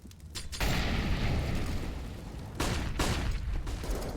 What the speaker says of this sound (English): There are the flashbangs.